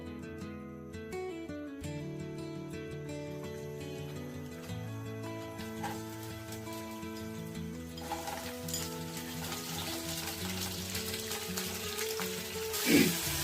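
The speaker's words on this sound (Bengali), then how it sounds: "তেলটা গরম হয়ে আসলে আমি এখানে কাঁকড়াগুলো দিয়ে দিব।" Crabs frying in hot oil for a Bengali crab dish, a steady sizzle mixed with stirring and a background music bed, rising louder near the end.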